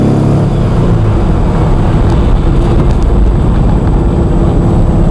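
An old Porsche engine, back on the road after about 30 years, roars loud and steady as it revs out, heard close with wind rush and no talking.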